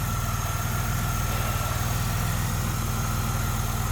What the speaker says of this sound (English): And of course it's still running like a charm.